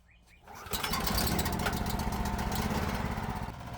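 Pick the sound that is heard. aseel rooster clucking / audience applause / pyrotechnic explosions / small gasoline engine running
small gasoline engine running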